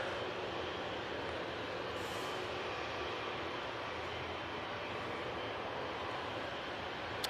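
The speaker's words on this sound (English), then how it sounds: "It is the Easyjet from Belfast using the A320neo." An easyJet Airbus A320neo airliner arriving from Belfast, heard as a steady, broad engine roar that holds at an even level throughout, moderately distant with no voices.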